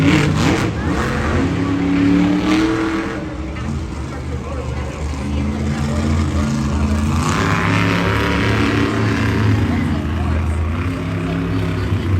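Monster Jam monster trucks accelerating off the start line at a World Finals racing show, a loud sustained engine roar rising in pitch, with crowd noise and talk running underneath throughout.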